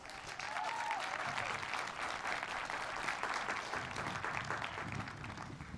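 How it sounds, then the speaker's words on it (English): A commencement audience at Westminster College's School of Nursing and Health Sciences breaks into sustained applause, a broad even roar of clapping that holds for several seconds, with a faint voice briefly audible early on. "let's please give her a round of applause"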